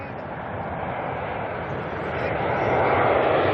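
An airliner in All Black livery, registration OAB, on the Dunedin run at Auckland, gives a brief steady jet roar that grows slightly louder toward the end.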